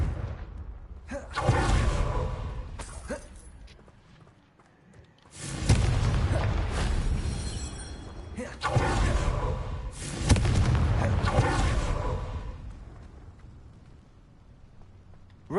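Confringo explosion spells cast in Hogwarts Legacy, a run of heavy booming blasts with whooshing bursts, several thunderous explosions rolling and overlapping, loud and full.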